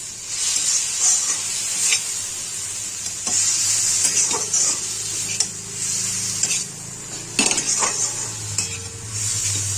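Prawns frying in a pan with turmeric and chili powder, a steady loud sizzle broken by repeated scrapes and clinks of a spoon stirring against the metal, with no talk.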